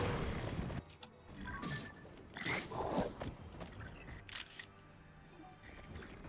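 An in-game camera shutter in the video game Zelda: Tears of the Kingdom at Hyrule Castle snaps a picture, a crisp click or two among scattered game sounds, with faint talk under it.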